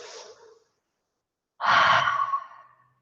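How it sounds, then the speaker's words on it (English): Two slow cleansing breaths, a soft airy inhale through the nose trailing off, a pause of silence, then a louder, fuller sighing exhale through the mouth, close and alone. "doing a cleansing breath where you breathe out through your mouth, and you can even make a sound"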